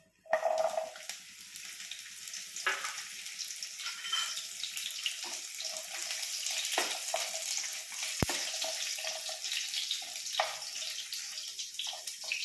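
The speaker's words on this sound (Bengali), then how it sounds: "এবারে ভেজে নেব" Drumsticks (sajne danta) frying in a pan for a vegetarian shukto, a steady close sizzle with occasional stirring clatter and watery hiss running throughout.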